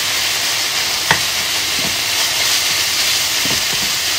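Ground chicken sizzles steadily in a hot pan for gapao rice, with a few sharp clicks and scrapes from stirring over a constant loud frying hiss; no one speaks.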